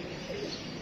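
A pigeon coos once, low and near, in a short burst. The sound is fairly loud against a steady background and is not masked by any voice.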